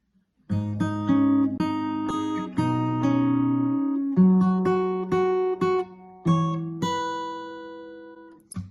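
Fingerstyle guitar plays a verse of a song alone, plucked notes and chords ringing clearly with a steady, unhurried rhythm and close, full tone.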